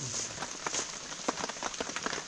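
Rain falling outdoors at a rural gathering, a steady soft hiss with scattered patters and crackles throughout, moderately close and unaccompanied by talk.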